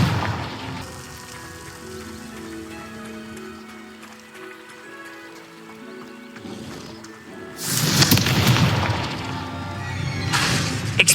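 Confringo fire spell explosion in Hogwarts Legacy: a loud crackling burst lands near the end, followed by a second burst, after a stretch of quieter game music and ambience.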